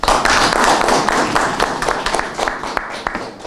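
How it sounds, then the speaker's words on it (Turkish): Audience at a cultural association event clapping in a warm round for the organising team, dense patter near and loud at first, then thinning and fading toward the end. "onlara özel bir alkış rica ediyoruz"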